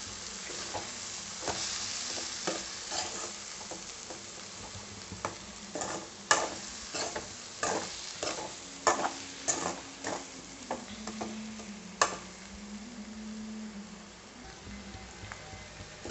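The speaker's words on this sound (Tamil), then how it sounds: "முட்டையை சேர்த்து நல்லா கலந்து விடலாம்" Egg being stirred into potatoes frying in a pan for a Tamil potato-egg poriyal, a steady sizzle under scattered scraping stirs and clicks of the spatula against the pan, close and moderately loud with no talking.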